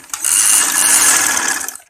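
Electric sewing machine stitching the shoulder seam of a simple shirt: a steady, fast mechanical whir runs nearly two seconds, close and loud, starting and stopping abruptly with no talk.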